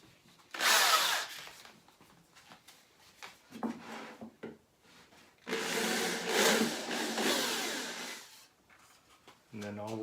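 A drill with a brad point bit bores into wood, whirring in several loud bursts separated by pauses and handling noises, with brief speech near the end.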